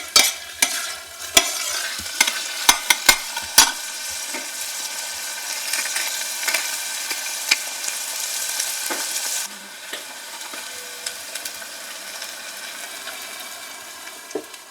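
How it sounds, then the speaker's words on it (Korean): Finely chopped roasted paprika and chopped onion sauté in a pan, a steady close sizzle with repeated scraping and clinking of a utensil stirring, busier at first and then settling to a softer fry. "구운 파프리카를 곱게 다져서 잘게 다진 양파와 함께 볶는다"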